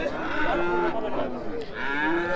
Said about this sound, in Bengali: এই যে এই গরুটিও খুবই নাদুস নুদুস